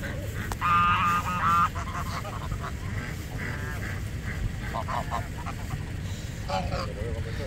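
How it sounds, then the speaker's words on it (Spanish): Geese honk repeatedly at Punta Mogotes over a loud, rumbling outdoor background, with short bursts of honking scattered through. "lo que tenemos de entretenido son los gansos"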